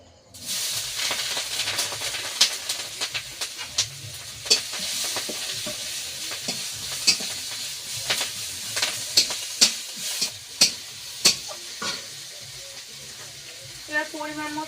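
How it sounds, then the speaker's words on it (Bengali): Onion and green chillies fry in hot oil in a pan after fish has been fried, giving a steady loud sizzle with repeated sharp scraping clicks of a utensil stirring throughout. "ভাজা হয়ে গিয়েছে এবার পেঁয়াজ কাঁচা লঙ্কা দিয়ে দিচ্ছি"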